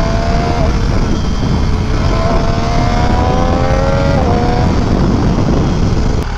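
An MV Agusta F3 RR motorcycle revs hard while being ridden, a loud, sustained engine whine that climbs and shifts in pitch over strong wind rush, with no talking.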